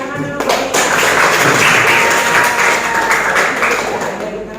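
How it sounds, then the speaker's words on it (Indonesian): Classroom applause, a dense wash of clapping from many students that swells and holds for several seconds, fairly loud, with voices mixed faintly underneath. "Ya, bagus, tepuk tangan dulu."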